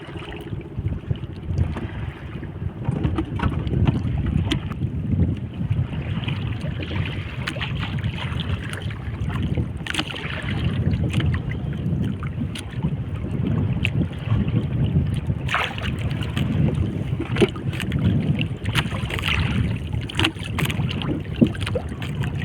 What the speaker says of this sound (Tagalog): medyo mahangin-hangin na.